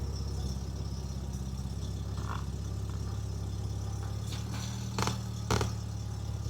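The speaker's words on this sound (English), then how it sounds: "Just getting the engine running to get the servo working so we get maximum brake pressure." A VW Golf MK2 GTI engine idles steadily with an even low hum, close by, with a couple of brief sharp knocks or clicks near the end and no talking.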